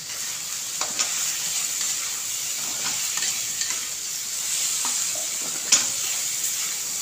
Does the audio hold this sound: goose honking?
no